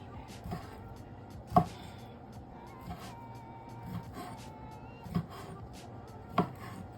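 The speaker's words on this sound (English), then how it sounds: "All right, cut my sausages." Knife chopping through turkey sausage on a cutting board in a home kitchen, a handful of sharp, spaced thuds over a low steady background hum, close and moderately loud with no talking.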